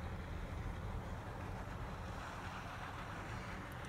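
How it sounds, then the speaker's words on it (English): Strong winter wind gusting across a lake, a steady dense roar with buffeting on the microphone and a possible wash of water, continuous and loud throughout with no talking. "The wind is blowing like crazy."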